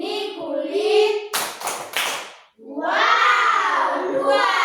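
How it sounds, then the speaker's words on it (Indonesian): A fourth-grade primary school class bursts into a short round of clapping for about a second, with a few sharp claps trailing off, between stretches of a teacher's voice. "tepuk tangan kita semua"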